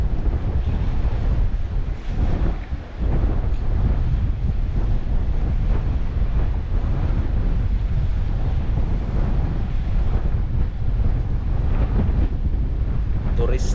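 Strong wind blows at the sea in Bermuda, a loud continuous rumbling buffet against the microphone over faint surf.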